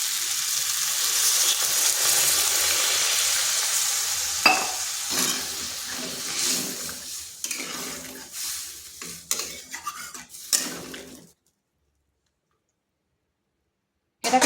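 Water poured onto sautéed kundri in a pan sets off a burst of sizzling and frying, with spoon scrapes and clicks against the pan, fading and then cutting to silence.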